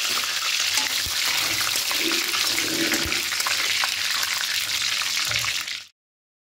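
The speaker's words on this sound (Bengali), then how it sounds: "এবার তেলের মধ্যে দেব রাঁধুনি ফোড়ন, 5 ফোড়ন, 2টো তেজপাতা আর 2টো শুকনো লঙ্কা।" Whole spices including radhuni and five-spice seeds, two bay leaves and two dried red chillies sizzle in hot oil for dudh shukto, a loud, steady crackling hiss with occasional pops that cuts off abruptly near the end.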